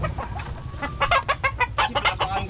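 An egg-laying hen clucks in a series of short, quick, moderately close calls, a faint steady hum underneath and no talking.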